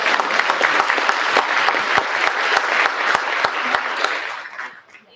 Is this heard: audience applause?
yes